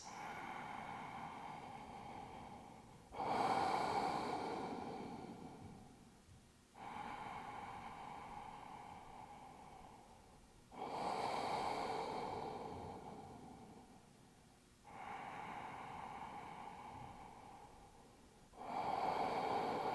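Slow, deep exhalations during a yoga practice, about five long breaths each starting with a sharp onset and fading out over a few seconds, close and steady with no talk.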